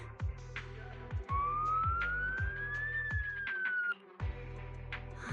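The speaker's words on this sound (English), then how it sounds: "So it really is a siren." A siren wails with a rising and falling tone over a repeating electronic beat, fairly loud and steady, with no voices.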